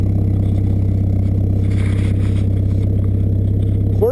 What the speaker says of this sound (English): The Jeep is driving itself